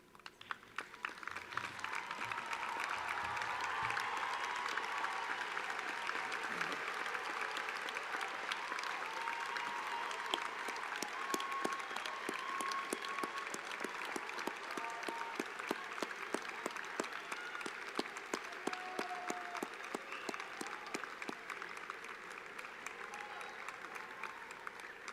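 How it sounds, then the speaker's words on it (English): A large graduation audience at a university arts and science convocation rises and gives a long, steady round of applause, a dense wash of clapping that holds at an even, moderately distant level for about twenty-five seconds. "give those who helped you a big round of applause"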